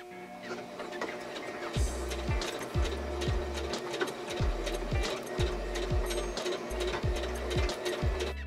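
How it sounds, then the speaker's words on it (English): A sewing machine running a regular straight stitch along pajama pant fabric, close and steady with repeated rhythmic needle thumps in short bursts and a continuous motor whir throughout. "I have my sewing machine on tension 5."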